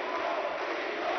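A kickboxing audience at the Palasassi arena roars and cheers to encourage a fighter, a dense, steady wash of crowd noise that fills the whole moment without a break.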